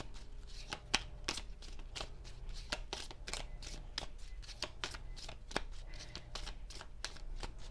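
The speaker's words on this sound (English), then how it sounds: "Let's do 2 more shuffles." Oracle cards being shuffled by hand during a reading, giving a steady series of crisp riffling slaps and flicks at close range, quiet but distinct, with no voice.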